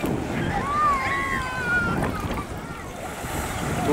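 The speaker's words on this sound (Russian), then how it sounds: "Я покажу вам прибой небольшой." Small surf washing against a rocky shore in a protected bay in southern Primorye, a steady broadband rush of water with wind buffeting the microphone throughout, and a faint tonal whine drifting in the background.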